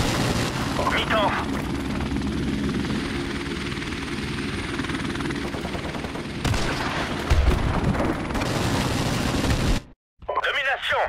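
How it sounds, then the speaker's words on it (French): Support helicopter in the video game Call of Duty Modern Warfare Remastered, a loud steady rotor drone with bursts of gunfire layered over it and brief in-game voice chatter, cutting out near the end. "Hélicoptère de soutien en position."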